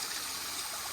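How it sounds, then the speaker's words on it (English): Small stream at the foot of Manoa Falls, a 150-foot waterfall in Hawaii, giving a steady rushing hiss of flowing water with no pauses, close and fairly soft. "a little stream at the bottom"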